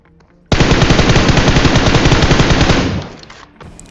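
Loud, close burst of rapid automatic gunfire in PUBG Mobile, a continuous stream of shots lasting about two and a half seconds before cutting off into quieter ambient game sound.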